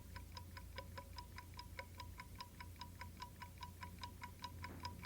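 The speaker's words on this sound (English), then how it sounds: "The rhythm of a clock's balance wheel can be heard in its steady tick-tock." Steady, quick ticking from a clock's balance wheel, evenly spaced and faint over a low background hum, with no voices.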